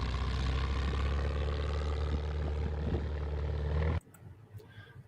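A light propeller airplane drones with a loud, steady engine hum that cuts off abruptly near the end of an accident recording, leaving faint background noise.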